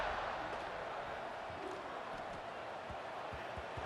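Stadium crowd in the EA College Football 26 video game, a steady, dense roar of cheering before kickoff that holds at an even level throughout, heard at a distance.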